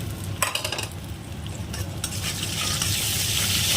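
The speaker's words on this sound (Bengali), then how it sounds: "এবার পেঁয়াজটা আমি ভালো করে ভেজে নেব।" Sizzling onions and ginger paste frying in a pan with a few sharp scraping stirs early on, the hiss growing steadier and louder toward the end.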